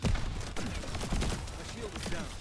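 An assault turret fires in The First Descendant, a rapid volley of repeated gunshot bursts mixed with game noise, while a voice speaks over the shooting.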